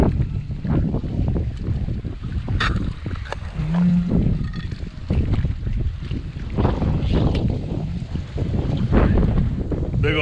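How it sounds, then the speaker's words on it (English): Strong wind blows outdoors at a beaver trapping spot, battering the microphone with a constant loud rumbling roar and gusty buffeting throughout. "It is super windy, so I don't know how good the footage is gonna be today"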